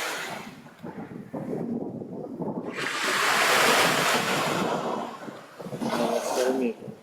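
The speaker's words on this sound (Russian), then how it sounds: "У нас накат хорошо идет." Storm surf rolls onto the Gelendzhik shore in January, a wave building to a loud roaring crash and then receding, with wind buffeting the microphone throughout.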